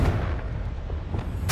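A Confringo fire spell in Hogwarts Legacy lets off a short blast. A dense rumbling burst is heard under steady game sound, then a sharp, bright crack at the very end.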